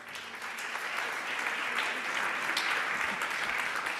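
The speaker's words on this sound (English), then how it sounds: "please help me in giving him a round of applause" An audience at a European cultural policy conference gives a steady round of applause, a dense even wash of clapping lasting throughout with no voices over it.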